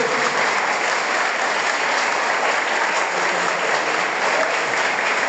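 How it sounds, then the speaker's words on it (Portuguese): Steady, dense applause from a church congregation at a Holy Family feast Mass, loud and even throughout with no breaks and no talking over it. "Uma salva de palmas."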